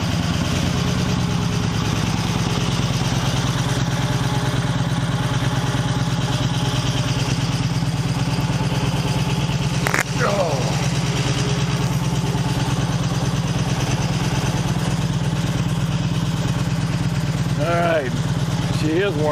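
Warmed-up Excelsior-Henderson Super X motorcycle engine held steady at about 3,000 RPM, a loud, constant close throbbing drone with a brief click midway and faint background noises.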